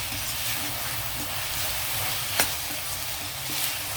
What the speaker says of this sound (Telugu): ఇది కొంచెం వేగనిద్దామండి.